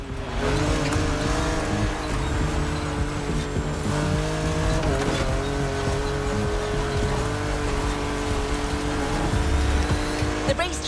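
Porsche 911 GT3 Cup race car lapping a track in the game The Crew Motor Fest, a continuous loud engine howl with shifting revs and tire noise, sustained throughout without pauses.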